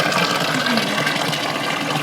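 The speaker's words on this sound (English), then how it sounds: "So I'm gonna put a little bit more water in here." Water gushes steadily and loudly into a fish tank, a continuous close rushing pour with no break and no talk.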